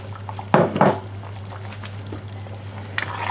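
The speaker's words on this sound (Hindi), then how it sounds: "यहाँ पर आप अपने जो है पोटैटोज़ ऐड कर लें।" Potatoes drop into a cooking pot for Pakistani aloo chana, giving two close clattering, splashy thumps early on and a faint clink near the end, over a steady low hum.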